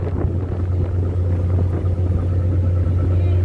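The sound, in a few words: car rumbling as it is loaded onto a ferry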